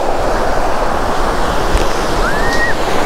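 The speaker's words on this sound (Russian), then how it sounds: "Но сегодня просто красивейшие волны, бесподобные" Sea waves break and wash onto the beach at Vityazevo in a continuous loud roar, with wind buffeting the microphone and no voices.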